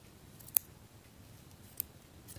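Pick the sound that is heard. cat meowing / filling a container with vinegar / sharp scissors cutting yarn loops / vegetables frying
sharp scissors cutting yarn loops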